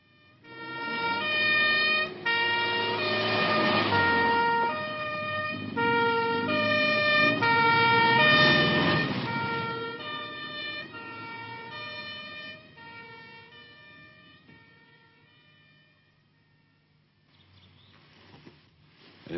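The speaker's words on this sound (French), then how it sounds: "Une ambulance pour le 5 Schillerstrasse." Ambulance siren wailing loud and close in a repeating two-tone pattern, swelling and fading over several cycles before trailing off into quiet with faint traffic noise at the end.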